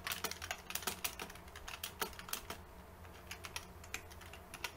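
Rapid, irregular keystrokes on a computer keyboard while Python code is being written, close and crisp, with brief pauses between bursts and no talking.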